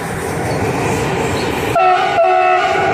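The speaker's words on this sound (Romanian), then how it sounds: "Acum vine trenul, ia să fotografiem trenul." A passing train rumbles steadily and loudly, then its horn blasts in two strong tonal bursts over the continuing rail noise.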